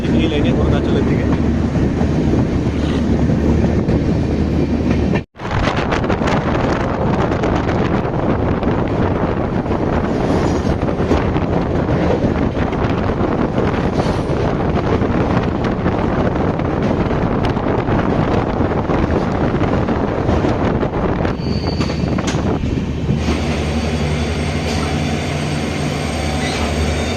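Riding aboard the Donyi Polo Express passenger train toward Arunachal Pradesh, loud continuous rumble and wheel noise with wind buffeting fill the clip, a brief dropout early on, and squealing wheels and a steadier hum toward the end.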